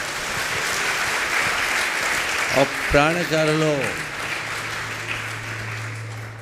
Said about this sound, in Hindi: अगर मेरी बात अच्छी लगी तो आप लोग एक बार ताली बजा लो